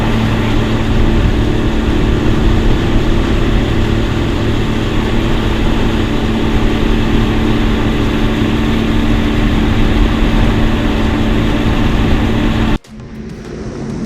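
A Sea-Doo GTX Limited 300 jet ski engine idles while warming up, a steady loud droning hum with a constant low tone that cuts off abruptly near the end.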